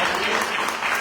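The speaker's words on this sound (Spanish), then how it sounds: "un aplauso a Valderotti de Castro" Applause from a lecture audience, closing a talk on Román Baldorioty de Castro and the Autonomist Party, a steady close wash of clapping with no gaps for just over a second.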